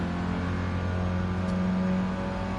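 A 1965 Mini Cooper S in Gran Turismo Sport revs steadily as it accelerates, its engine a continuous, loud drone with stable harmonics throughout and no pauses.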